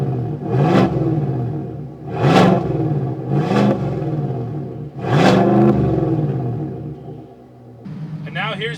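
A Chevy Silverado Bison pickup engine in sport mode revs four times, each a loud rising and falling roar over a steady idle rumble. A faint voice comes in at the very end.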